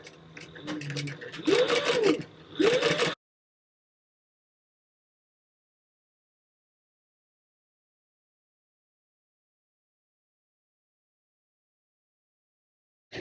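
A home sewing machine at stitch length 4 sewing D-ring strap connectors about 1/8 inch from the edge for an outer wall panel: two short whirring bursts of stitching with talk around them, then a long silence.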